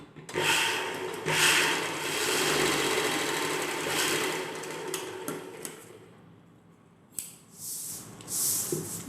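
A sewing machine stitches the neckline lining of an umbrella-cut dress, its whirring runs loud and close in bursts with short pauses between them.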